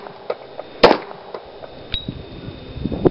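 Pistol fire at a Texas concealed handgun licence qualification range: one sharp, loud report near the middle and a second fainter crack shortly after, heard close over outdoor background noise with no talk.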